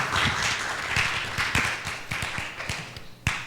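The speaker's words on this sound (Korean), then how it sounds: "우리 나오실 때 환영의 박수 주시겠습니다" Church congregation applause welcoming a pastor to the pulpit during a Korean Sunday service, a modest spread of clapping with distinct individual claps that thins out toward the end.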